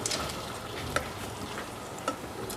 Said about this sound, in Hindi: और इसको अच्छे से भून लेंगे ताकि इसका कच्चापन ख़त्म हो जाए